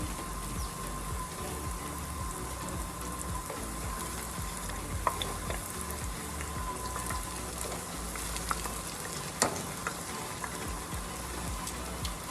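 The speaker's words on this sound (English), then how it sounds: "I don't like frying these too hard, so this is almost done" Continuous crackling sizzle of Belizean salbutes frying in oil, steady and close, with occasional small pops and clicks throughout.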